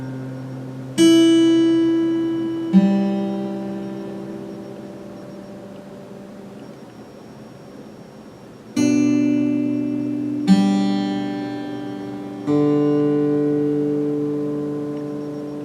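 Slow guitar notes and chords are plucked a few seconds apart, each left to ring and fade before the next.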